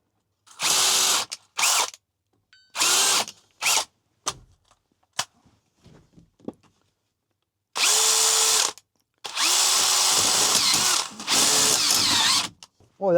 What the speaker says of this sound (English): that thing is drilling ridiculously easy